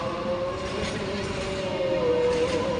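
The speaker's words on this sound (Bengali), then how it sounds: "অবশেষে মালবাহী ট্রেন দেখালাম।" A freight train passes nearby, a steady rumbling roll with a faint high metallic squeal from the wheels running throughout.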